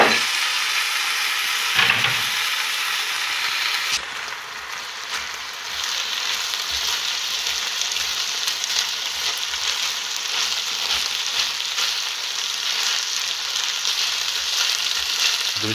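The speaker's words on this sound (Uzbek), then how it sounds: "Guruchimizni 2-3 daqiqa qovurib, tuz berib, suvini quyib dimlaymiz." Rice grains fry and sizzle in a pan with a steady, fairly loud hiss, punctuated by a few scraping stirs and a brief clatter near the start; no one speaks.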